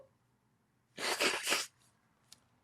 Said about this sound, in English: I sneezed on the podcast.